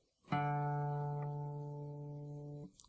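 A single pluck of an acoustic guitar's open fourth string, played for tuning, starts sharply, then rings clear and close for about two seconds before being damped, with nothing else heard.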